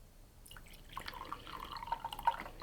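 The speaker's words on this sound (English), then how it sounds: "I will generally put a little water in first" Warm water is poured into a container for mixing matcha tea, starting softly and building into a trickling, dripping stream with bright splashy drops up close.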